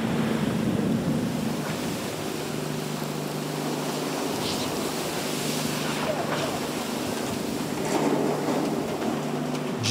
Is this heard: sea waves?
yes